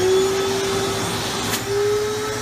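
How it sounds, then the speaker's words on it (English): A shop vacuum drones loudly and steadily up close as it is run over a person's head during a home haircut, with a high whine holding across the whole stretch and no talking. "About to use the shot vac on Bo's head right here."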